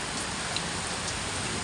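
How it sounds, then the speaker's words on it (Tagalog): Heavy rain pours down in a dense, unbroken hiss, loud and close throughout the short stretch, with no other sounds standing out. "grabe ulan"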